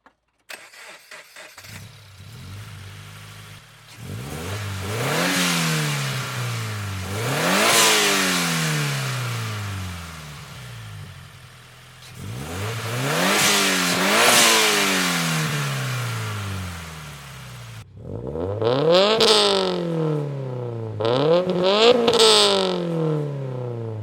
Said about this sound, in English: get some from the front so you can hear like the blow-off valve and all that stuff